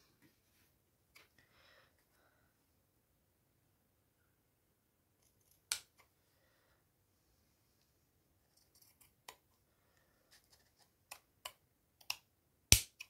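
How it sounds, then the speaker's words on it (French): Scissors cut paper for a junk journal in a quiet room, a few sharp snips scattered across the stretch, with clustered cuts near the end and long silent gaps between. "je vais couper ici"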